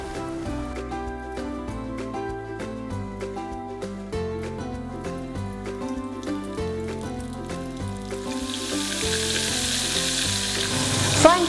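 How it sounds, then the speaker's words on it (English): Mantis prawn pieces dipped in corn flour drop into hot oil, and a dense crackling sizzle rises over steady background music during the last few seconds. "So now I'm going to dip them into some corn flour and we will fry."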